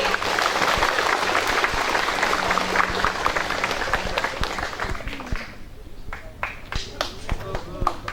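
A school audience at a talk show claps for the singer on a simple stage, dense applause that thins into scattered individual claps near the end, with some cheering and a voice speaking over it.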